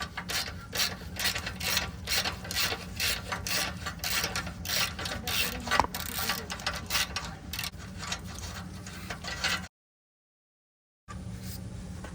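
A ratchet wrench works on rusted, seized exhaust nuts on a Honda J-series engine, producing rapid, rhythmic close-up clicking and grinding that stops briefly near the end before resuming.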